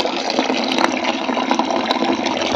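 Hot water pouring steadily from a tap or geyser outlet while a bath is being prepared at home, a dense continuous gushing rush close by with no talk.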